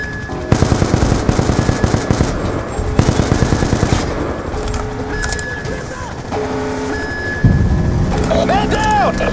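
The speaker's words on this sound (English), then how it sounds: "Firing on enemy ASDs!" Machine gun fire during military training, with rapid bursts of loud shots in several volleys, mixed with shouting voices and other battlefield noise.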